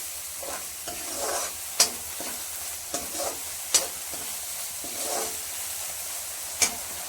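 Chicken liver fries in onion gravy with a soft continuous sizzle while a utensil stirs and scrapes the pan, giving irregular swishes and a few sharp metallic clinks, close and unaccompanied by talk.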